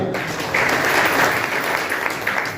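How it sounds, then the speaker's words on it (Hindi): An audience at a business meeting in Aligarh breaks into a short round of applause, dense and steady clapping that fills the brief moment. "एक बार तालियां।"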